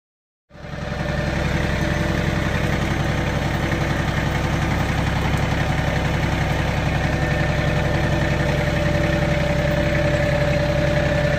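A tractor engine idles steadily and close by while hauling a rare 1967 Pontiac Catalina 2+2 convertible onto a trailer, a continuous low throbbing rumble that holds level throughout with no talking.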